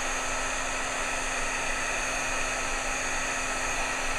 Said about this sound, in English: I'm going to heat that up, and I'm going to emboss that.